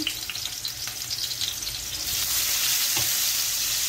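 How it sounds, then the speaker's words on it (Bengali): Garlic sizzles in hot oil as a bagar tempering for a botboti dish, a loud, close, crackling hiss that swells even louder and steadier halfway through, with no voices. "এখানে রসুন দিয়ে দিলাম, তো বটবটিটা আমি রসুন দিয়ে বাগার দেবো"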